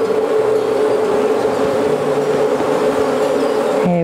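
Honey bees buzzing steadily as a nuc colony is moved into a new hive, a dense, close and continuous drone with no talking.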